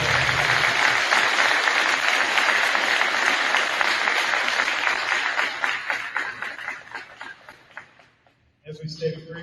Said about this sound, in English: let's give this group of student athletes a big round of applause